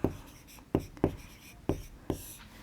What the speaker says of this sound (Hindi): तो बच्चों इसको हम लिख लेते हैं सारणी में